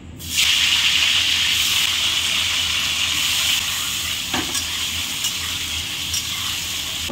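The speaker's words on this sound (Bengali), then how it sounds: "আলু তেলটা আমার গরম হয়ে গেছে, আলুগুলো প্রথমে ভেজে নেব।" Potato pieces fry in hot oil for a Bengali tengra and prawn fish curry, giving a loud, steady, dense sizzle that holds unbroken from start to finish.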